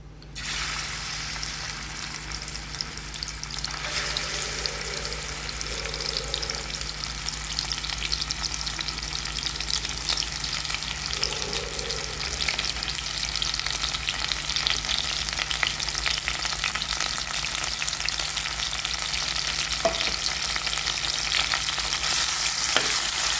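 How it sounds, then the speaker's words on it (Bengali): Prawns frying lightly in hot mustard oil, a loud continuous sizzle holding steady throughout with faint stirring, no talk. "তেলটা গরম হয়ে আসছে তো উপর থেকে আমি পনগুলো ঢেলে নিয়ে হালকা করে ফ্রাই করে নেবো"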